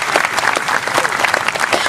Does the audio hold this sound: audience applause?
yes